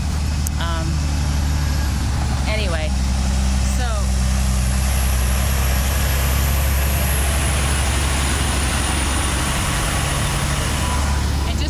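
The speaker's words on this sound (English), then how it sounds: "that was a Lindy truck" A Lindy dump truck rumbles past on a road busy with construction traffic, a steady loud low engine drone with brief hissing squeals, while a person keeps talking over it.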